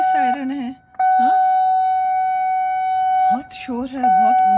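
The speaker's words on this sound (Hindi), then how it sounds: "एक कुछ सायरन टाइप बजने शुरू हो गए।" A steady, high wailing siren drones loudly across a street in Bristol, UK, running unbroken beneath someone talking close by.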